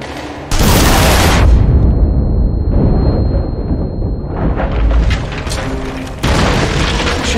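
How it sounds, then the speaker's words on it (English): An explosion in The Saboteur, an Xbox 360 game, brings down a ceiling. Loud booming blasts and rumbling debris fill the space, then ease into a lingering roar before another heavy burst. "Need an explosion to bring down that ceiling."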